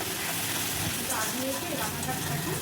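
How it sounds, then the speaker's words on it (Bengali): A spice paste with a little sour yogurt fries and is stirred in oil for a Bombay duck (loitta fish) jhuri, making a constant dense sizzle with a faint voice talking underneath. "মশলাটা যতক্ষণ কষাবো তেল ছেড়ে যতক্ষণ না আসছে, যে ভালো করে কষিয়ে নিচ্ছি।"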